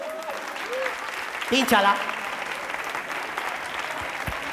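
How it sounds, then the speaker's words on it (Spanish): An audience claps at a live stage show, a continuous wash of applause with a voice calling out briefly over it partway through. "Bien, esas palmas."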